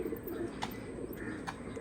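A Giribaz pigeon coos softly in a quiet setting, making a faint, low murmur with a couple of brief, sharp clicks.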